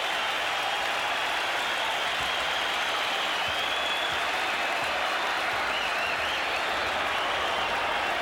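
A basketball arena crowd at a 76ers versus Knicks game applauds steadily, a dense, loud, unbroken wash of clapping and cheering that holds at full strength throughout.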